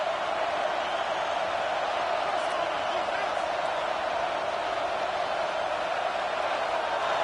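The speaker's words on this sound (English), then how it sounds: "This crowd unhinged, trying to make sure the Gators don't back down on third down" A packed stadium crowd roars at a Florida Gators college football game on third down, a dense, steady wall of cheering that holds at full intensity from start to finish.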